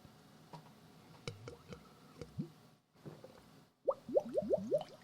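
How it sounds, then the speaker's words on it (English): Beer bubbling and gurgling in a boot-shaped glass while drinking, faint wet squishes and drips, then a close burst of rising glugging bubbles near the end, with no talking. "If you heard those bubbles, it's because I'm drinking out of Das Boot tonight"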